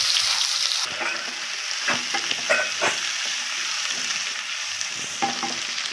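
Sliced onions with cardamom, fennel and bay leaves frying in oil for chicken sukka, a bright steady sizzle up close broken by several stirring scrapes, with nobody talking.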